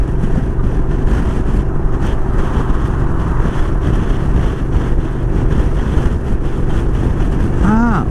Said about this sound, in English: Very windy on this side.